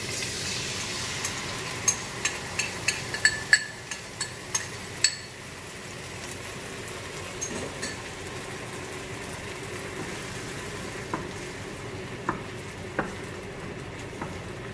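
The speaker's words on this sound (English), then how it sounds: "slowly pull the mixed sauce inside the wok" Sweet and sour sauce poured into a hot wok on high heat, a soft steady sizzle with a run of sharp clinks early on, then a quieter bubbling hiss with occasional light taps.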